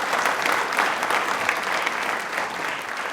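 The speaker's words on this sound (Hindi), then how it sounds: "तालियां जोरदार हो जाए प्लीज एक बार" Steady, dense audience applause at a televised quiz show fills the whole stretch, loud and continuous with no speech over it.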